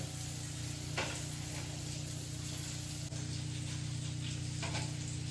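Crushed pepper, garlic, green chili and curry leaves fry in hot oil with a steady close sizzle, broken by a couple of faint stirring clicks, no talking.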